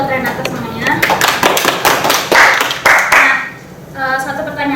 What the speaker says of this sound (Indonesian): Tepuk tangan buat Renata semuanya